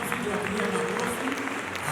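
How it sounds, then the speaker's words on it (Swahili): Church congregation clapping at a wedding, a short burst of crowd applause with voices and room murmur underneath. "Situwapigie makofi, tuwapigie makofi."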